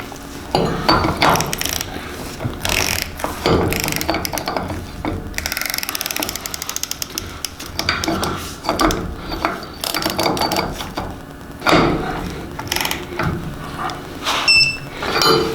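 A ratcheting wrench set to 50 foot-pounds works on wheel hub bearings in a basement shop, giving bursts of close, sharp metallic ratchet clicks and clanks with brief pauses between strokes.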